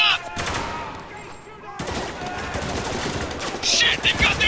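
Enemy gunfire in Spec Ops: The Line, dense bursts of machine-gun and rifle shots crackling close and loud in rapid rattling volleys, with a brief lull before the firing resumes, and a voice shouting amid the shooting.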